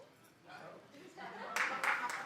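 Studio audience at a daytime talk show breaking into clapping, starting faint and swelling into a few loud bursts of applause near the end.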